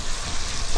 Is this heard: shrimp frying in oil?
yes